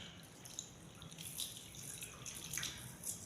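Water is scooped and poured into cupped hands to wash the face during Islamic ablution, faint splashes and trickles with small drips and no talking.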